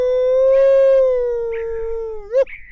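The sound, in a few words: electronic caller playing baby domestic pup sounds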